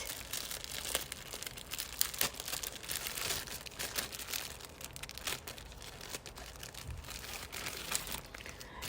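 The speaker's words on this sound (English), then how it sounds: "Let's unwrap it." A houndstooth Sonia G makeup brush envelope is unwrapped from its packaging, giving soft, close crinkling and rustling with brief tearing and crunching sounds throughout, fairly quiet and without talk.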